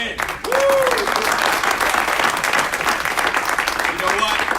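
An audience breaks into loud, sustained applause with cheering, steady clapping filling the room from start to finish, while a voice calls out briefly near the beginning.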